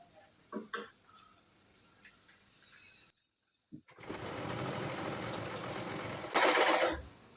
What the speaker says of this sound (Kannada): ಸ್ವಲ್ಪ ದಪ್ಪ ಆಗಿರೋದ್ರಿಂದ ನೋಡಿಕೊಂಡು ನಿಧಾನಕ್ಕೆ ಹೊಲಿಗೆ ಹಾಕ್ಕೋಬೇಕು